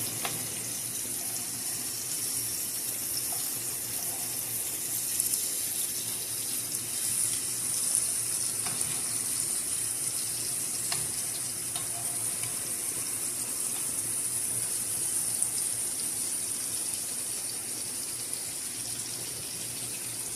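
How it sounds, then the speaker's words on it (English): Pieces of fish tikka fry on medium heat with a steady, continuous sizzle and hiss that holds at an even level throughout, with no voices. "Fry on the medium heat."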